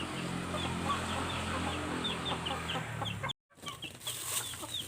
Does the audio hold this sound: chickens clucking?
yes